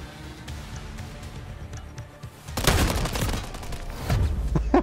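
Gunfire in the video game Modern Warfare 3, a Search and Destroy match with a shotgun in use: low background game noise, then a burst of loud close shots and sustained firing in the second half, with sharp cracks near the end.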